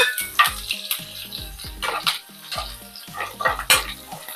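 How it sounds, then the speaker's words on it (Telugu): Dried red chillies and curry leaves crackle and sizzle in hot tempering oil, with repeated sharp bursts and stirring clatter close up; no talking. "ఎండుమిరపకాయలు కరివేపాకు కూడా వేసేస్తున్నాను"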